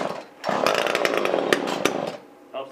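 A small gasoline engine, choked on a 26-degree morning, fires up and settles into a loud, steady buzzing run for about a second and a half, then cuts out, with a brief revving burst near the end.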